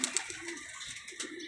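A pigeon coos softly and repeatedly, low murmuring calls close by over faint background noise.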